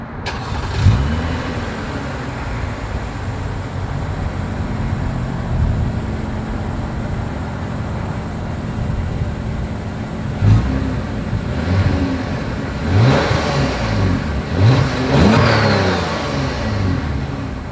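A 2023 Lexus ES 350 with dual exhaust idles with a low rumble, then gets several sharp blips of revving in the later part, each rising quickly and falling back.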